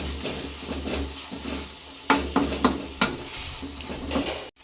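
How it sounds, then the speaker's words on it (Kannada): A tomato mixture cooks in a pan, giving a steady bubbling sizzle with a low hum beneath and several sharp scrapes and clinks of a spoon stirring against the metal, with no talking. "ನೋಡಿ, ಎಷ್ಟು ಚೆನ್ನಾಗಿ ಬಾಯ್ಲ್ ಆಗ್ತಾಯಿದೆ. ಈ ಟೊಮೊಟೊ ಚೆನ್ನಾಗಿ ಬೇಯಬೇಕು."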